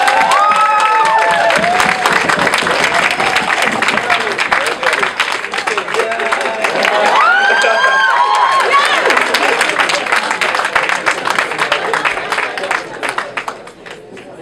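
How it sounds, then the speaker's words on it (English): An audience at a 2017 ESG award ceremony and dinner gives a recipient a long round of applause, with dense clapping, cheers and shouts from a crowd that fade near the end. "Give him a resounding round of applause."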